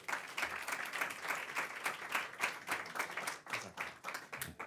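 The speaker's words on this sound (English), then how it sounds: "Nice round of applause for our friend Colin O'Mara." A crowd at a congressional Democrats' event applauding, individual claps clearly audible in a fairly faint, uneven burst of clapping throughout.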